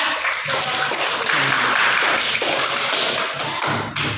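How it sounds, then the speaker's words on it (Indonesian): Students in a classroom applauding, a sustained round of many overlapping hand claps for about four seconds that ends with a final louder tap. "Kita berikan aplaus juga"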